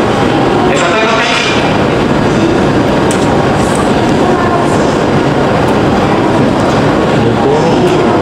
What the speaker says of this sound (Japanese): 列車到着です。